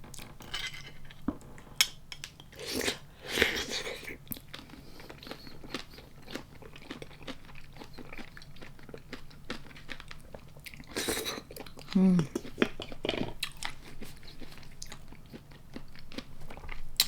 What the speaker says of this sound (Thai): ไข่ปลาแตกในปากกรุบๆ